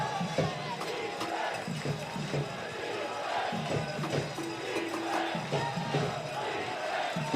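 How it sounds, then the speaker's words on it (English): A crowd cheers and shouts throughout a pro frisbee championship game between Minnesota Wind Chill and Oakland Spiders, a sustained distant roar of many voices with swelling yells over steady arena noise. "Crowd's getting into it for the wind chill."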